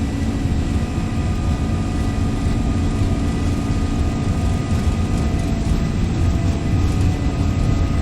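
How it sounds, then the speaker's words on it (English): A steady, loud roar of airliner engines at takeoff thrust in the X-Plane 12 flight simulator, heard from a freight-hauling flight. The dense, unbroken rumble holds constant throughout with no voices. "Advance the power to takeoff"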